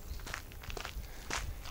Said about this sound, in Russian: И ты топаешь.